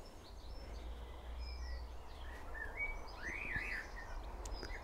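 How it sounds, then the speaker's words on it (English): A robin sings in an English back garden on a May evening, faint warbling phrases and chirps at a distance over a low background hum, with no talk. "Whoop, there's a robin."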